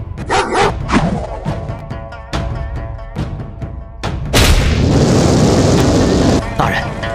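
Dogs bark repeatedly at night near a military camp under attack in a historical drama, sharp loud barks over a dense layer of rumbling and booming noise, with voices speaking at the start.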